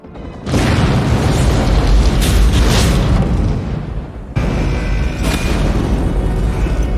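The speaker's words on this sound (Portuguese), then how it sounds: "a explosão no topo do arranha-céu Nakatomi" A huge, rumbling film explosion, shot on a scale model, at the top of the Nakatomi skyscraper in Die Hard roars out loud and sustained, then cuts abruptly into a second heavy blast that keeps booming without pause.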